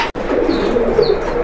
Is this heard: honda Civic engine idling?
no